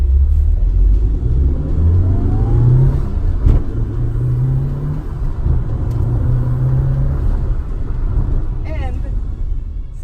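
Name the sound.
Mitsubishi Lancer Evolution IV car driven hard, engine revving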